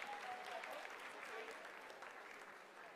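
Steady applause from a mission control crowd during the Chandrayaan-3 lunar soft landing, continuous and fairly even throughout, with a faint voice or tone briefly audible beneath the clapping.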